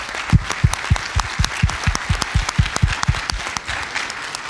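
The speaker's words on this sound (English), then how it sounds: "let's give a round of applause to this excellent panel" Applause from an event audience for a discussion panel, with distinct low thumping claps close by standing out over the broader crowd clapping.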